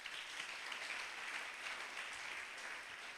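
A church congregation cheers and applauds the Lord, a steady wash of clapping and cheering that carries on without a break at moderate distance.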